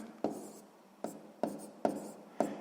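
Pen writing on paper while working a sixth-grade fraction problem, several short scratchy strokes with small taps between them, close and quiet.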